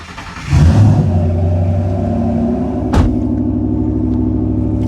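A built, turbocharged Coyote V8 in an S197 Mustang street car cranks and fires up, settling into a loud, lumpy idle with a sharp blip of the throttle midway.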